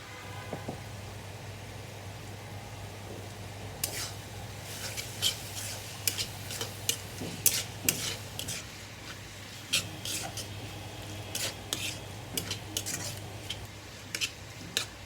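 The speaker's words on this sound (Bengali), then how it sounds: "ছুরি আমি একটু ছেঁচা দিয়ে নিচ্ছি।" A knife strikes dried fish (shutki) on a hard surface in a series of sharp, close taps that come irregularly over a low steady hum, with no talking.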